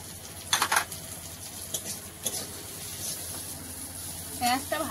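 Green chillies dropped into chopped onions frying in hot oil, giving two short, bright sizzling bursts near the start and end over a low, steady crackle, with faint stirring.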